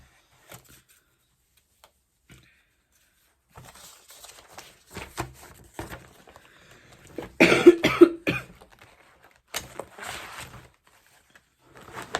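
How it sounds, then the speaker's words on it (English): A few sharp coughs burst out in a quiet room, clustered near the middle, with soft rustling and small knocks before and after. "I'm coughing, but I'm not as bad as I was"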